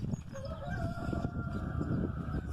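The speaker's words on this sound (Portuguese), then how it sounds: "Olha tanta galinha que tem aqui." Chickens and a rooster on a small Brazilian farm, with continuous clucking and fowl calls close by, including a crowing note, over a busy low-level barnyard background.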